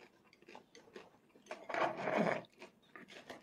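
Crunchy topping on a creamy vegetable pasta is chewed close up in a few soft crackling bites, with a louder crunch in the middle.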